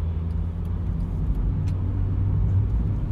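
A car drives past at a roundabout, a steady low engine and tyre rumble swelling slightly toward the end, heard from inside another vehicle waiting to pull out, with no talk.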